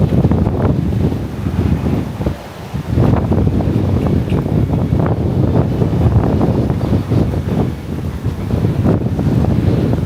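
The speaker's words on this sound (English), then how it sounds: "All right, a little breezy," Strong wind buffets the microphone outdoors on a street walk in Pattaya, a steady loud rumble that gusts and roars throughout with no talking.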